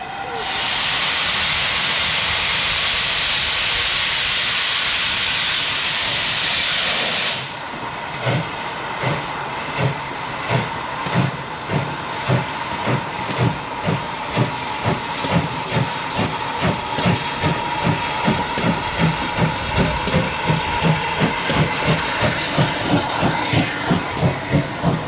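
A steam locomotive on the South Devon Railway roars with loud, steady steam hiss for several seconds, then settles into rhythmic chuffing exhaust beats that grow quicker and stronger as it pulls away, heard up close with brief voices.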